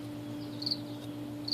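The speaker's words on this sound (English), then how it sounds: "the noise right here is my little cricket" A small male cricket rubs its wings together, giving a close, steady high chirping with brief brighter bursts, alone with no voices.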